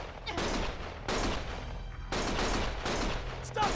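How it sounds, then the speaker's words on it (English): Loud bursts of automatic gunfire in the action game Lost Judgment, several sustained volleys in quick succession with short gaps between them, under faint background voices. "Stop shooting!"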